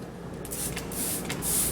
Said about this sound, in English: spray the oven cleaner directly onto the towel